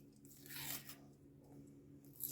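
Quiet, close tearing of a perforated paper packet, one crisp rip in the middle followed by softer rustling and crinkling, with no voices.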